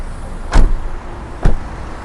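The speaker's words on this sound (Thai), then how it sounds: "มาเดี๋ยวปิดฝากระโปรงปิดประตูแล้วดูรอบคันกันนะครับ" Two solid thuds about a second apart as the hood and then a door of a Nissan Navara 2.5 pickup slam shut, close and loud against faint background noise.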